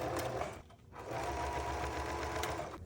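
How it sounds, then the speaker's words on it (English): A regular home sewing machine runs a straight basting stitch along slippery swimwear fabric straps, a steady close motor hum broken by a brief pause before continuing evenly. "Now I'm basting the straps using a straight stitch."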